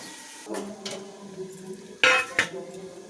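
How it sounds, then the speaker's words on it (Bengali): A lid lifted off a cooking pot of potatoes, vegetables and drumstick flowers on a home kitchen stove: a few soft metal clinks and scrapes, then a sharper clatter of metal on metal near the end, heard close up. "আমি ঢাকনাটা খুলে দিলাম"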